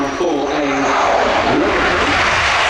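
A canard delta-wing fighter jet roars loudly and steadily through a flying display at the Royal International Air Tattoo 2024, while an announcer keeps talking over it.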